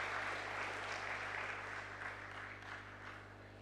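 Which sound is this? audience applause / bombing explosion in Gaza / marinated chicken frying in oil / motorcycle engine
audience applause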